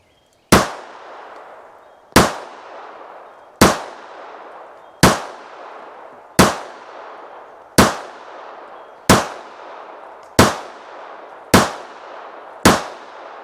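A Ruger LCP MAX compact pistol fires full metal jacket rounds outdoors. Ten sharp, loud shots come at an even pace about one and a half seconds apart, each with a short ringing decay, and no one speaks.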